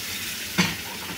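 A short burst of hot water hitting suji halwa cooking in ghee in a small non-stick-free kadai, a single hissing sizzle over a steady low frying background.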